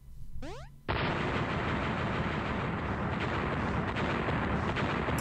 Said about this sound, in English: it is capable of causing explosions whenever it goes